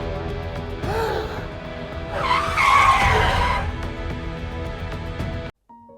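A car's tyres skid loudly on the road for several seconds in a dramatic street scene, the screech swelling in the middle and then cutting off abruptly.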